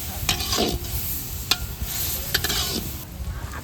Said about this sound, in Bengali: মশলাগুলো কষা নিচ্ছেন না ভালো মতো কষায় নেবেন